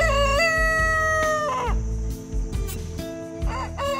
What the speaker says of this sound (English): I thought I saw a cool bird. Turns out it's a rooster.